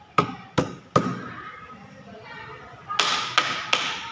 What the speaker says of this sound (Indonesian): Coba tangan Ibu ketok-ketok di sini ya, di meja ya.